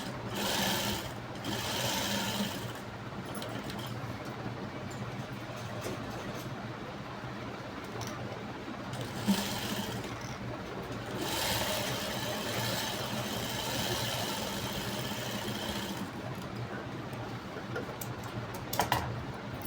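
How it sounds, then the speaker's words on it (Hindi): A sewing machine runs steadily while stitching blouse fabric, a continuous close mechanical whir with rapid needle ticking, pausing briefly a few times before starting up again. "और आगे वाला जो पार्ट है इसको भी हम इस तरह से सिलाई करके ले लेंगे।"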